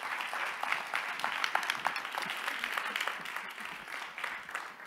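Audience applause for speakers at a Danish panel on sport and climate, continuous crowd clapping with rapid individual claps audible, moderately loud and steady throughout.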